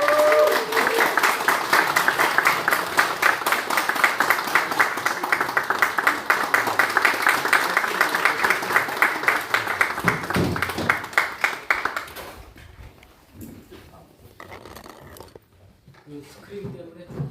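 Sustained audience applause welcoming a guest lecturer at a church presbytery retreat, dense even clapping for about twelve seconds before fading to scattered claps, with voices speaking afterward.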